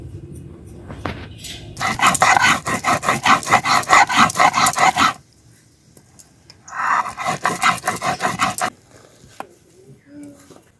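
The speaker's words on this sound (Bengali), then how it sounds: "এখন আমি বেটে নেব জিরে।" Cumin seeds are crushed on a grinding stone in two bursts of quick, rhythmic scraping strokes, loud and close, separated by a quiet gap.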